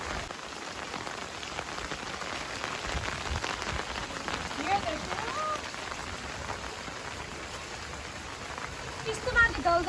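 Heavy monsoon rain pours steadily onto surfaces around a village house, a dense continuous hiss of drops throughout, with faint voices and occasional splashes rising near the end.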